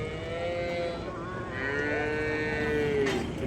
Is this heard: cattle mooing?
yes